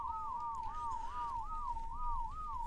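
A player's whistle command in ARK: Scorched Earth, a faint, repeated rising-and-falling warble tone held steadily throughout, alone over soft background noise.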